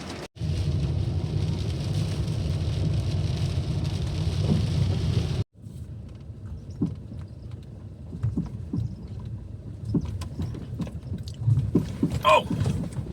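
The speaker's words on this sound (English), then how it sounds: "let this wind and rain die down" Wind and rain at Dinorwic Quarry in Snowdonia make a loud, steady roar that suddenly cuts off, then drop to a quieter wash broken by scattered knocks and taps.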